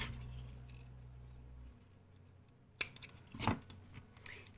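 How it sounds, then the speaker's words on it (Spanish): Scissors snip through acrylic yarn once while finishing a crochet wayuu-style bag strap, a single sharp close cut after a low hum fades, followed by faint rustling. "y cortamos"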